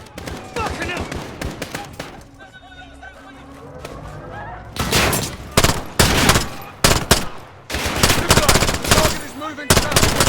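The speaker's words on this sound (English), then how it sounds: "The gunshots, of course." Bursts of automatic and single gunfire ring out in the Modern Warfare video game, loud and close, coming in rapid clusters after a quieter stretch, with voices speaking in between the volleys.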